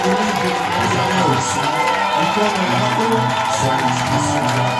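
A large crowd at a religious gathering cheers and shouts continuously, a dense, loud roar with voices rising over one another.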